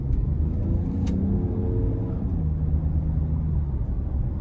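A 2023 Lincoln Nautilus Black Label with a 2.7 twin-turbo V6 accelerates hard in sport mode, a steady low engine drone rising in pitch with turbo pull. It is heard from inside the cabin, with no talk over it.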